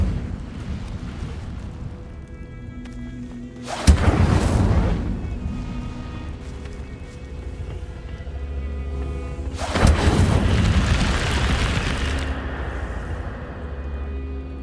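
Two loud fiery bursts from the Incendio fire spell in the video game Hogwarts Legacy, each a sharp whoosh that swells and rumbles away over a few seconds, spaced about six seconds apart over a low ambient bed.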